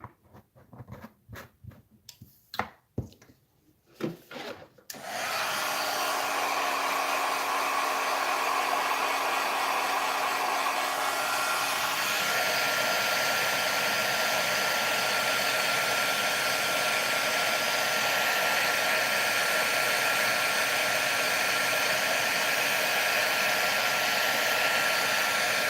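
A heat embossing tool blows hot air over a watercolor card, a loud steady whooshing hum starting after a few seconds of clicks and handling noise and running unbroken to the end, no talk.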